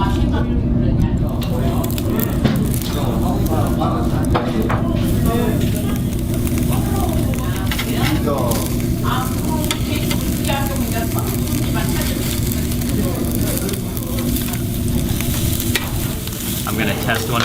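Marbled Jangsu beef sizzles and crackles loudly on a charcoal grill at a Korean barbecue, a constant spitting fry with a faint steady hum underneath and a voice talking over it.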